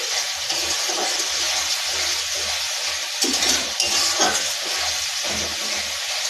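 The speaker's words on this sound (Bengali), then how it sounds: "মশলার সঙ্গে চিনিটা কষলে কালারটাও আসবে আবার খেতেও দারুণ লাগবে যে মশলাটা কষাচ্ছি" Spice paste with sugar being stir-fried in a pan for ghugni gives a steady, close sizzling hiss, with soft scraping strokes of the spoon repeating underneath.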